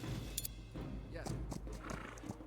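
A horse whinnies and hooves clip-clop in the Civilization video game, quiet and mixed with other game effects. A person talks over the sounds at times.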